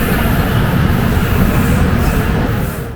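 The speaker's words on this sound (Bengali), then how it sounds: "ট্রেন এখন গাড়োয়া জংশন ছেড়ে গেল, গাড়োয়া রোড জংশন" Shaktipunj Express pulling out of Garhwa Road Junction, a steady loud rumble of wheels and carriage noise that holds throughout and eases slightly at the end.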